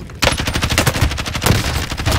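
Rapid automatic gunfire in Call of Duty Warzone, loud and close, a dense rattling burst of shots running nearly the full length without pause.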